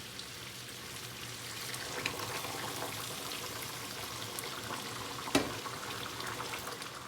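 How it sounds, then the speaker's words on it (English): Boiled water poured into a pan of browned, frying chicken for Persian-style chicken, giving a soft steady sizzle and bubbling hiss with a brief louder splash near the end, with no talk. "I'm adding water, boiled water"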